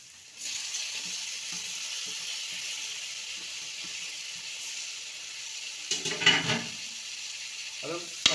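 Tomatoes and onions with curry leaves fry in a pan, a steady close sizzle running throughout, with a few louder stirring scrapes near the end.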